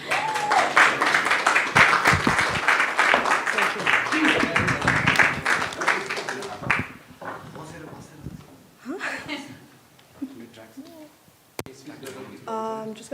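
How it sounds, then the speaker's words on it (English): An audience at a Nepali community event applauds Sneha, a barrister and Himalayan Award winner, with steady, fairly loud clapping for several seconds that thins out as talking takes over. "So big round of applause to Sneha."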